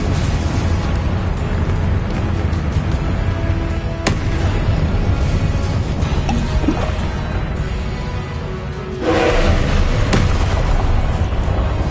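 Confringo explosive spell from Hogwarts Legacy, a loud game explosion with a sharp burst and a second heavy blast later, over dense continuous game noise.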